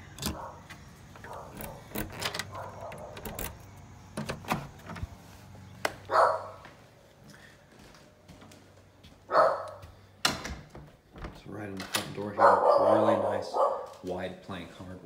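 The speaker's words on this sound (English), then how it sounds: "I can hear the puppy." A puppy barks indoors during a house tour, giving a few separate sharp barks spaced several seconds apart while a person keeps talking nearby.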